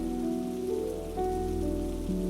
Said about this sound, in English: It was a rainy evening in downtown Seattle.